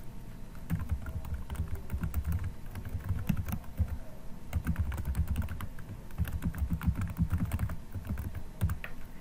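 Steady typing on a computer keyboard while entering an email address and password, a continuous patter of soft, close key clicks with no voices.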